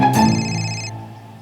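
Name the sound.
phone ringing with an incoming call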